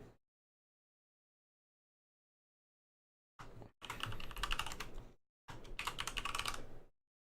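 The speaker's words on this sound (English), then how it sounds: "see, I just typed in Hollow Knight" Computer keyboard typing in two bursts of rapid, even keystrokes, close and clear after a silent stretch, with a short gap between the bursts.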